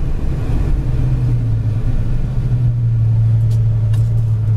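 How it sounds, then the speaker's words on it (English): A 1975 Dodge Dart Sport slows hard from high speed, giving a loud, close, steady road-and-engine drone with a low tonal hum that shifts slightly as the car decelerates, and no one speaking. "here's your brakes at high speeds"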